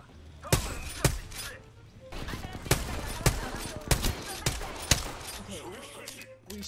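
Gunfire in the battle-royale shooter Apex Legends: a run of sharp, loud single shots spaced unevenly, with quieter game ambience and rustling between them.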